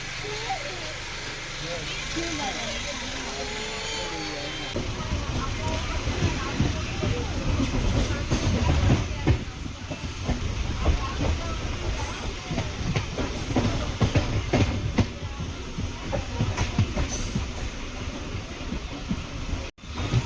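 A MEMU passenger train between Tiruvannamalai and Tambaram runs on the rails, its steady rumble and clacking wheels loud and close for most of the stretch, with talk on board over the noise.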